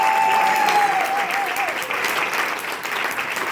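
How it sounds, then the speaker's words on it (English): A live audience at a Beatles fan festival trivia session breaks into a sustained round of applause, a dense, steady wash of clapping that fills the room and eases slightly toward the end. "Give these guys a round of applause because this is as good as we've had it."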